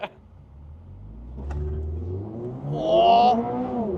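A turbocharged Toyota GR86 or supercharged Subaru BRZ launches hard down a drag strip, its engine note climbing steadily in pitch and loudness through the gears, with a whining rise near the end, heard alone.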